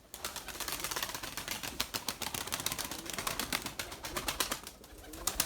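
Pigeons flapping their wings as they fly, with dense rapid clatter of wingbeats filling the air and steady cooing mixed in, continuous and fairly close throughout.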